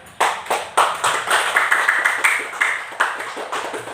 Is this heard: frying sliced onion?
no